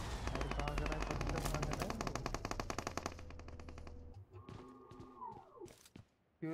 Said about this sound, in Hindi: देखो गोली चला रहे हैं ये तो।